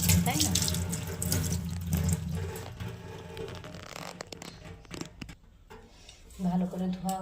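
Tap water runs steadily into a sink as freshly picked garden vegetables are rinsed by hand, with splashing and clattering as the produce is handled, loud and close throughout.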